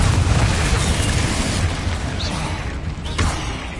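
A Confringo blasting spell explodes in Hogwarts Legacy, a sustained loud, rumbling boom with dense low-end roar that keeps rolling for several seconds, with a few sharper crackles near the end.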